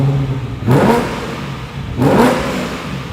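Modified 5-liter naturally aspirated V8 in a carbon-bodied Nardone 928 (Porsche 928 based), blipped twice in quick succession, each rev swelling loudly and falling back to idle, heard close up with no talk.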